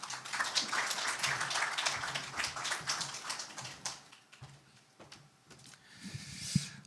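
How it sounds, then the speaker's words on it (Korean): An audience at a radiation industry forum claps for several seconds, fairly faint and slightly distant, then the applause fades out, leaving quiet room noise and a soft thump. "큰 박수 부탁드립니다."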